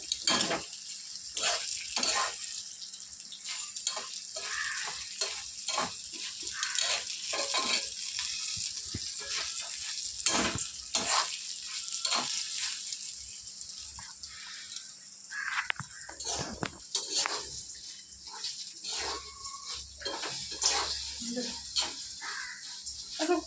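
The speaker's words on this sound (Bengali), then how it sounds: "পাঁচ মিনিট ভেজে নেবে জাস্ট পাঁচ সাত মিনিট ভেজে দিয়ে তারপরে জল দিয়ে দেবো" Lentils (dal) frying in a pan for a chutney, a steady close sizzle with scattered crackles and occasional stirring scrapes running throughout.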